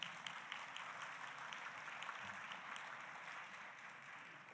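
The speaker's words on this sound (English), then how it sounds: "So please, a round of applause for all of you." An audience at a summit keynote session applauds in a faint, steady patter of clapping that holds evenly throughout.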